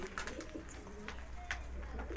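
Roller pigeons kept for sale coo softly at close range, low throaty calls over a steady background hum, with a faint voice nearby.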